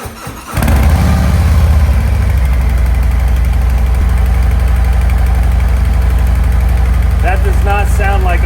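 Harley-Davidson motorcycle on stock mufflers cranks and fires up, then settles into a loud, steady, close idle with an even low rumble and lumpy pulse, and a voice speaks briefly near the end.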